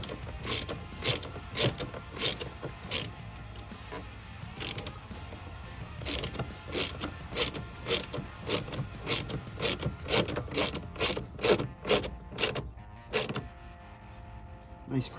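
Plastic intake airbox being twisted into place makes a sharp series of ratcheting clicks, irregular but frequent, close and crisp over faint handling noise.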